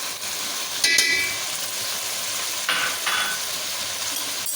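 Garlic-ginger paste hits a hot pan of onions and sizzles steadily, close by. A couple of brief stirring scrapes cut through the hiss.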